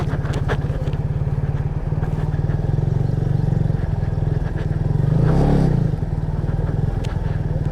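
A motorcycle engine chugging steadily and loudly up close on a rough mountain track near Nanga Parbat in Astore Valley, with a rapid rhythmic thump, rattling over the ground and briefly swelling as it revs.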